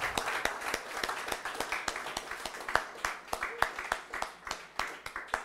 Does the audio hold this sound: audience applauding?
yes